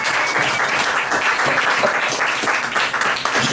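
A live audience applauds the Gentlemen Hecklers, a performing troupe, at the Geek: Interesting show: steady, full-room clapping that holds at an even, fairly loud level throughout without breaking off.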